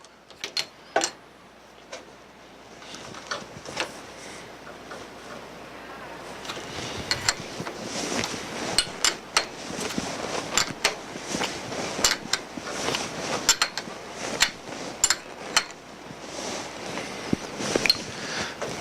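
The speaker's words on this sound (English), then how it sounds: "Tighten the larger fittings using a 7/8 open-ended wrench." Metal clicks and taps from an open-ended 7/8 wrench tightening the larger fittings on a manifold/pump assembly, irregular sharp ticks spread through the clip, close by, with a low background hum.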